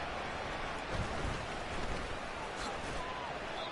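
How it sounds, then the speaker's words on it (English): Steady rain falls over an outdoor football game in Montana, a dense continuous hiss with no clear individual drops, holding at a constant level throughout. "The rain set to continue as we are underway in the second half."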